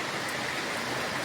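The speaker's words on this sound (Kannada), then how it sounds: "ಇವತ್ತು ಮಳೆ" Rain falls steadily in a soft, even hiss, faint and continuous, with no voices.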